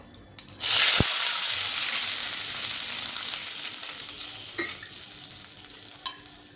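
Water is poured into hot oil with crackled cumin seeds, setting off a sudden loud sizzle that slowly fades, with a few clinks of utensils afterward.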